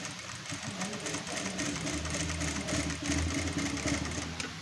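A sewing machine runs steadily, stitching a half-inch folded loop strip for a blouse hook-and-loop closure, its motor hum continuous and close with no talk over it.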